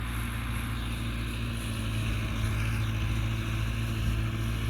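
Modified tractor engine running steadily while working a field in Sindh, Pakistan, a continuous droning rumble at constant level with no break across the few seconds.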